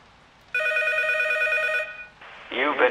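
A telephone rings in the Silent Hills P.T. horror game, one long steady electronic ring lasting over a second, loud and close, followed by a brief noisy burst.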